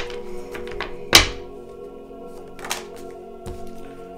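A tarot card flies out of a shuffled deck on its own with one sharp thunk near the start, followed by a few softer taps and rustles of cards in a quiet room.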